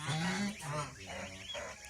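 Honking, nasal calls from a few geese at a goose farm sound close by, overlapping in a brief, uneven burst.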